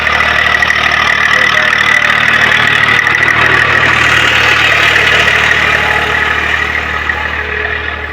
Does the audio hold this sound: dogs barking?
no